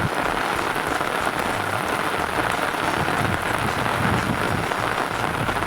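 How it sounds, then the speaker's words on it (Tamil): Heavy rain pours down steadily in a village, a dense, continuous hiss of drops striking surfaces close by, with no voices. "இன்றைக்கி மட்டும் பயங்கரமாக மழை பெய்யுதுடா"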